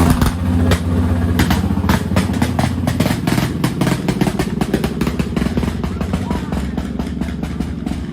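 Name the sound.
vehicle engine running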